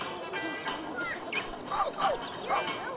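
A dog in The Sims 3 video game yips and whimpers in short, fairly loud high-pitched bursts repeating over a few seconds, with faint game ambience underneath.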